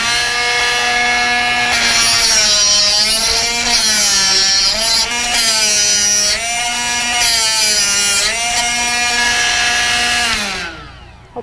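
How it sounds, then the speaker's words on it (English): A Drill Doctor or Darex bit sharpening machine whines loudly and steadily while grinding a drill bit, its pitch wavering as the bit is worked back and forth, then spinning down at the end. "so let's go ahead and sharpen this bit."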